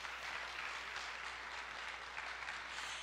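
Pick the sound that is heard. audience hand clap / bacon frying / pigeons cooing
audience hand clap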